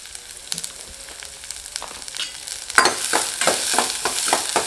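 Dried red chillies, a green chilli and asafoetida powder sautéing in a pan, starting as a soft sizzle and swelling into loud, crackling frying with stirring scrapes in the second half.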